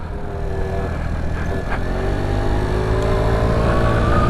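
A 50cc GY6 scooter engine drones steadily during a ride, its whine gently rising in pitch as it accelerates, with wind rush around it and no talking.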